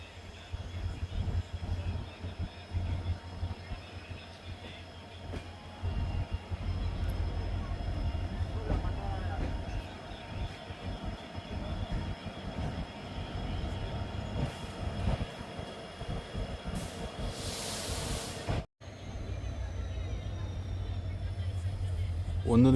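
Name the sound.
train arriving at Bantwal railway station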